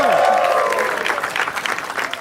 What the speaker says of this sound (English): Can we have a louder round of applause for Suhasini?